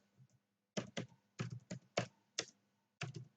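Keys clacking on a computer keyboard as a command is typed, about a dozen crisp close strokes in short bursts separated by brief pauses, with nothing else audible.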